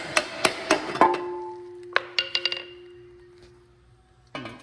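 Several sharp metallic knocks in quick bursts, a hammer striking metal on a Chevrolet 183 bus under construction, with a ringing tone that lingers between hits, fairly close.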